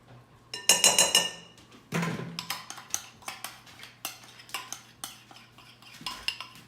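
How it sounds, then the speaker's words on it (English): Grated potatoes and onions being mixed in a large bowl for a Polish potato cake: a utensil scrapes and clinks against the bowl in a steady series of strokes, with a louder burst of clatter near the start. "we're gonna go ahead and put them in this big old bowl, and we're gonna mix everything together"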